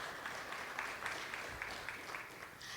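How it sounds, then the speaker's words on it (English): Audience applause at a school levy forum, faint and distant, a soft steady patter of clapping under a low background hiss. "So let's give a round of applause to him."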